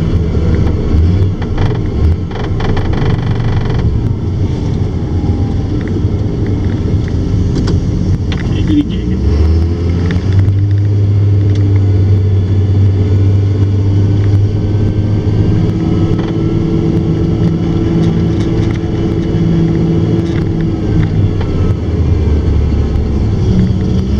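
A John Deere 644K wheel loader pushing snow on the upper deck of a parking structure, its diesel engine droning steadily and surging louder midway, with wind buffeting the microphone throughout.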